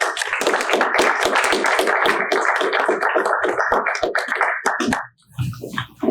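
An audience at a historical society talk claps steadily and loudly for several seconds, a dense patter of many hands that stops abruptly near the end.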